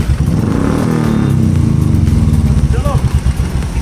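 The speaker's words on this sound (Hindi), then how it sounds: "अब वो गाड़ी चालू होती है या नहीं वो देखो पहले।" A petrol motorcycle runs right after being refuelled, its engine throbbing steadily and close with a rough, pulsing rhythm that grows choppier toward the end, with people talking over it.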